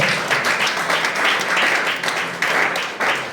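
A church congregation claps rhythmically to acclaim the Lord, with loud, steady pulses of crowd applause throughout and a faint voice in the background.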